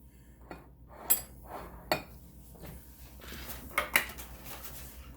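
Kitchen handling noises while cooking: faint metal clinks and clatters of a pan and fork, a few sharper taps standing out over soft low background rumble, fairly quiet with no talk.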